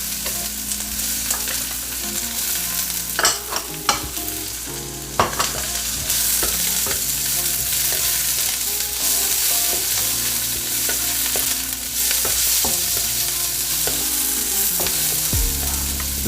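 Bean sprouts and white onion stir-fry for brisket lo mein: a loud, steady sizzle runs throughout, broken by repeated scraping and clattering stirs in the pan, close up and with no talking.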